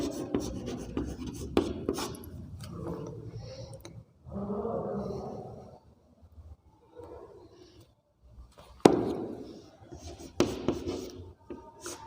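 A pen writes an answer by hand on paper, making soft scratching strokes close by with short pauses between bursts. A few louder taps and rustles break in now and then.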